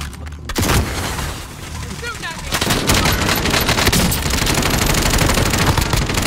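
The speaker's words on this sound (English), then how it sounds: "Taking fire here" Gunfire in Call of Duty Warzone on Rebirth Island: a dense, loud stretch of rapid automatic shots and booms, intensifying midway and continuing steadily, with a voice speaking underneath.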